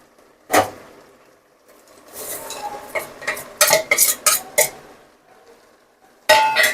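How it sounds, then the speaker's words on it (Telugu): Spoon scraping and clinking in a pot as jaggery is stirred into junnu milk, a run of quick close knocks and scrapes after an early single clack, with another sharp clatter at the end. "బెల్లం వేసుకొని ఇలా బాగా అయితే మిక్స్ చేసుకోవాలి"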